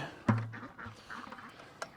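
Ducks quack at feeding time while feed is thrown out for them, one loud close quack near the start, softer scattered calls and rustling after, and a second quack near the end.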